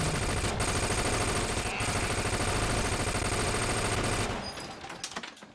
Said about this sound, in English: More fighting, more gunfire.